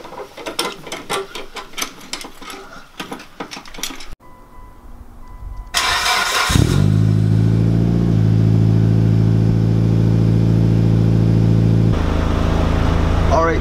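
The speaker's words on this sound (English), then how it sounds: "the idle is dropped to like a grand" A Mitsubishi Evo engine cranks and catches after a radiator install, then settles into a loud, steady idle around a thousand rpm, preceded by ratcheting and mechanical clatter with some talk.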